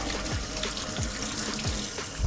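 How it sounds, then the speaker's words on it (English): Hands rinsed under a running kitchen tap: a steady, close splash of flowing water with small irregular spatters throughout. "Let me just rinse my hands off."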